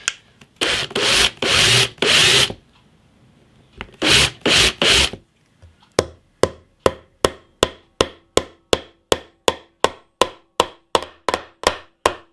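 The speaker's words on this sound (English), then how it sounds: "Now I'm just going to do a little countersink on the top." Hand tool countersinking a hole in the top of a wooden Telecaster guitar body: bursts of rasping rubs at first, then a steady run of about twenty evenly spaced, sharp scraping strokes, close and fairly loud with no talk.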